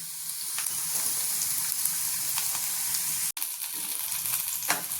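Onions and green chillies frying in a pan, a steady bright hiss of sizzling oil with occasional soft stirring scrapes, close and continuous.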